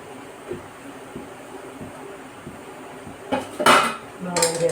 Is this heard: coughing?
no